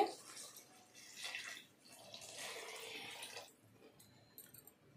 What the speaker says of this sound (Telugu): 3 గ్లాసులు నీళ్లు పోసుకుంటున్నానండి